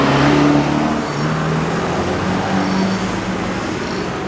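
A Lamborghini Performante roadster, a high-end sports car, rumbles with a steady, loud engine note at a roundabout on the Côte d'Azur, holding a low drone throughout with no talking.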